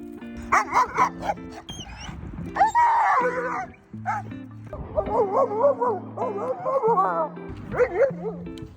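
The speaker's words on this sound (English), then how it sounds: "This is Zeus, a very reactive 2-year-old male Shep cross Malinois." A very reactive two-year-old male Shepherd cross Malinois barks loudly and repeatedly, with sharp yips and whining in between, close by and mixed with a voice throughout.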